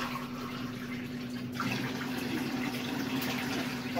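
Water runs in a steady stream into a pot holding four glasses of rice for pulao, a close, even pouring rush that swells slightly partway through, with no talking.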